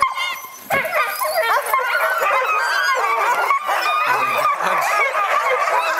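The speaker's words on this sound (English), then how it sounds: "And they're getting ready to feed the dogs." Many dogs in a camp bark, yip, whine and howl excitedly before feeding, a dense, loud chorus close by and continuing throughout, with someone briefly speaking.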